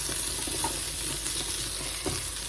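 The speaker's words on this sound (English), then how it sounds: "You hear a lot of sizzling and popping. That's the bacon grease" Bacon grease sizzles and pops in a pan of green beans, a steady, dense hiss with scattered sharp crackles and no talking.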